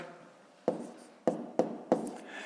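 Pen strokes on paper while working a long division by hand: four short, crisp scratching taps in an uneven rhythm, close and quiet, with no talking.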